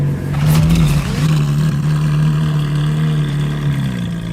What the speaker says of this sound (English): nothing sounds better than a Voodoo exhaust on a naturally aspirated engine, especially Italian engineering in the Ferrari